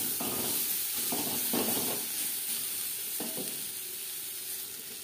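Moringa drumsticks stir-frying in a hot pan, a continuous hiss with short bursts of louder sizzling as they are tossed and stirred.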